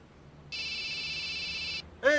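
A telephone rings with a steady electronic trill lasting over a second, then stops, and a second ring starts just after, heard fairly close with a voice briefly overlapping.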